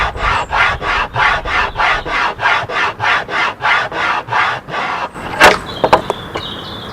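Rhythmic back-and-forth rasping of a file shaping the front edge of a wooden knife handle, about a dozen even strokes close up, followed by a few light knocks and clicks.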